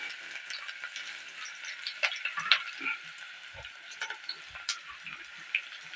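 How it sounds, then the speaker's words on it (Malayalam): Garlic and ginger frying in a pan for a sardine curry, a steady broadband sizzle with occasional sharper crackles and pops, close and fairly quiet, no voices. "നമുക്കിത് വെളുത്തുള്ളി, ഇഞ്ചി ഇട്ട് കൊടുക്കാം."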